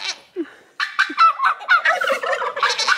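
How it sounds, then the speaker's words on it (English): Turkeys, including toms, gobble in rapid, warbling bursts, close and loud, with a few short clucks before the main burst of gobbling. "I like the sounds the turkeys make."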